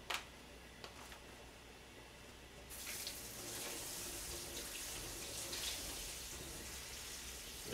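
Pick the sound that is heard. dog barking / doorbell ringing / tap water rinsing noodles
tap water rinsing noodles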